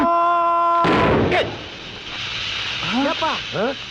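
A voice is cut off by a sudden loud bang from a bursting tyre, then a hissing rush, with excited shouting afterward.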